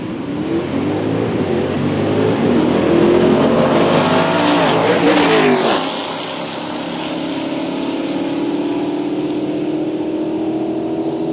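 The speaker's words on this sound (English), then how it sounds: "Nicholas Massengale, the Camaro in the left lane." A Camaro launching down the left lane at Atlanta Dragway, its engine roaring loud and close at full throttle before the note sweeps and fades as the car pulls away.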